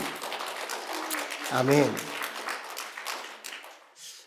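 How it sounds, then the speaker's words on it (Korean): A church congregation claps together in a steady wash of applause, with one voice briefly calling out partway through before the clapping tapers off. "우리 영광의 박수를 한번 올려드렸으면 좋겠습니다"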